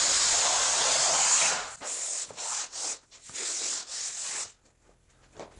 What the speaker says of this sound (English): I always make sure that I run best block for demanding sanding on the edges